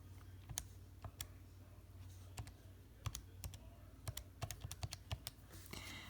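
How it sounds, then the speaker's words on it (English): Fingers tap a calculator keypad to enter a trig calculation, producing a soft, irregular string of individual key clicks against a quiet room. "So I'm going to type that in as 1/tangent of 410."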